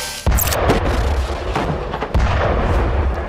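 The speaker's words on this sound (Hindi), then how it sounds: "तेज धमाका और आग की लपटों में इजरायली सैनिक खाक।" A rocket fired from a ruined house at Israeli soldiers during fighting, with loud repeated booms and blasts cracking over a dense, rumbling roar of gunfire and explosion noise, no speech.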